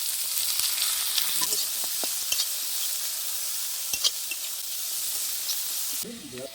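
Garlic, cumin, whole peppercorns, chopped onion and shrimp frying with salt and turmeric in a pan, a bright steady sizzle with scattered stirring clicks, briefly joined by a voice near the end.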